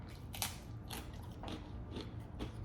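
A dry white cracker from a Russian military combat ration crunches as it is bitten and chewed, with several crisp, close crunches repeating at an uneven pace over a quiet background.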